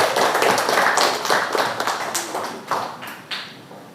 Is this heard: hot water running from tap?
no